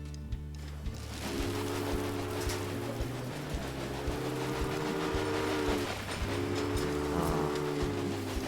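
Departing train in the video game Railway Empire, a steady rumbling engine drone with layered tonal hums and a rhythmic mechanical chug that holds at moderate level throughout, no voices.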